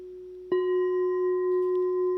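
A singing bowl struck once in an Ableton chakra-healing template, with small-room reverb. It rings out with a steady sustained tone and faint overtones, alone and fairly close, for about two seconds.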